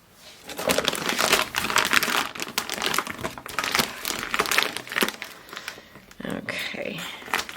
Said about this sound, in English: the crinkling's loud